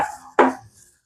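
Chicken marinated with cornflour being kneaded and squeezed by hand for Chicken 65, one short, close wet squelching burst in an otherwise quiet kitchen.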